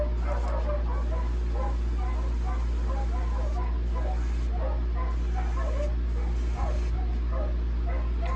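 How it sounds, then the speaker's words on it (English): Several excited dogs bark and yip in the background of a workshop where a swimbait is being built, steady under a constant low hum, with a person talking over them throughout. "I'm sure you guys hear all the crazy dogs in the background."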